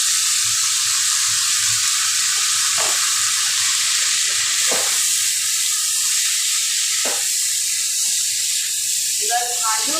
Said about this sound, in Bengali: এবার আমি এর মধ্যে আলুগুলোকে দিয়ে দিই।